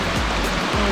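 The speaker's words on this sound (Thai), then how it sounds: "นี่จะเป็นน้ำไหลมา" A stream flows steadily in Lan Sang National Park in Tak, Thailand, its clear water rushing loud and close with a constant broadband wash and no voices.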